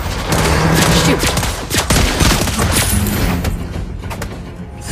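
Rapid loud gunfire from a mobile battle arena game featuring a sniper-style marksman character, dense overlapping shots and impacts in a chaotic burst that thins out near the end.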